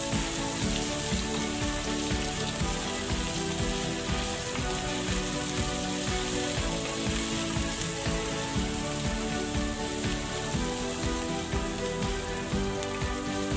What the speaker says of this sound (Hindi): इसके साथ ही इसमें जिंजर और गार्लिक डाल देंगे इसको भून लेंगे